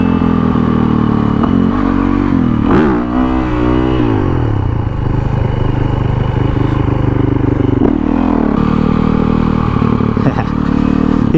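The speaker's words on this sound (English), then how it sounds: "He's also on a Wr450F that he turned into a Supermoto" A Yamaha WR450F converted to a supermoto rides past close by, its engine revving up and down through gears continuously with a rough buzzing drone over the whole stretch.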